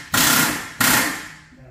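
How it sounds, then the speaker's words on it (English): A pneumatic rivet tool fires two sharp, loud bangs about two-thirds of a second apart, setting rivets in aluminium wheel tub pieces for a Ford Anglia street rod, each blast ringing and decaying in a workshop. "having riveted the top wheel tub pieces"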